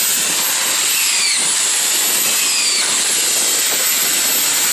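Power drill driving screws into wooden boards, a loud continuous high whirring whine with sweeping pitch changes and no pauses or talk.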